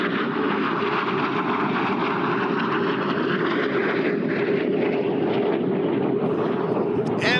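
A T-33 jet trainer arrives from the right at an air show to begin aerobatics, a constant, fairly loud engine roar that holds steady throughout the pass.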